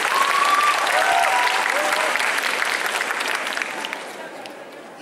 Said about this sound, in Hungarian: Taps neki!